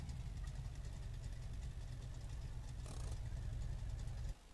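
A drag racer engine idles in a video game, a steady low rumble with an uneven, knocking pulse. It holds level, swells briefly, then cuts off sharply near the end.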